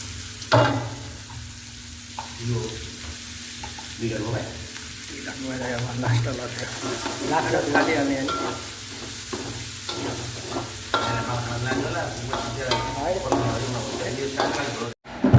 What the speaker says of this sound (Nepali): हाम्रो ताक्ने काम चाहिँ सकियो।